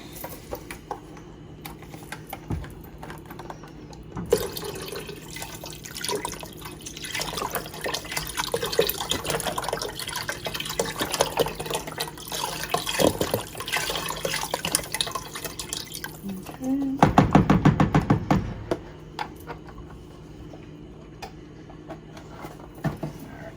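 Eight cups of stock pouring into a soup pot for onion soup, a steady liquid splash and trickle with a louder gush near the end, heard alone without talk.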